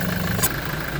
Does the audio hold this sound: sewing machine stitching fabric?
no